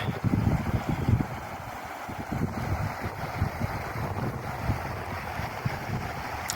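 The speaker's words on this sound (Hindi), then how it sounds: "पानी बह रहा है फुल स्पीड से।" A fast mountain stream in Chitral rushes steadily beneath a tree-lined slope, a loud, constant broadband roar mixed with gusting wind buffeting the microphone, and no voices.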